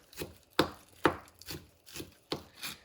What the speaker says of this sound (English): Cut up the green onions.